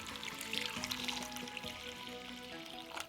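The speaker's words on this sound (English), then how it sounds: "Add the water inside." Water pours and splashes into a pot holding ginger and scallions, a steady stream, fairly quiet, with a faint trickling texture and no talking.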